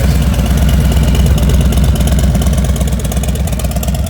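A 2020 Harley-Davidson Low Rider S V-twin idles through a Cobra 2-in-1 El Diablo exhaust, giving a loud, close, steady lumpy rumble with a pulsing rhythm and no voices.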